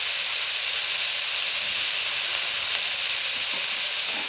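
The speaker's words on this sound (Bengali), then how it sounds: "সবজি ভাজা হয়ে গেছে" Mixed vegetables seasoned with salt and turmeric fry in a pan with a loud, continuous close-up sizzle and hiss that holds steady the whole time.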